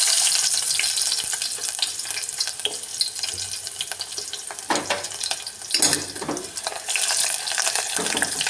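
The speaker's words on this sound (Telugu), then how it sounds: "ఎండుమిర్చి కొంచెం వేగిన తర్వాత కట్ చేసి పెట్టుకున్న ఉల్లిగడ్డల్ని వేయాలి." Chopped onions frying with dried red chillies in a pan, a loud, dense, close sizzle and hiss with bursts of spattering, steady throughout.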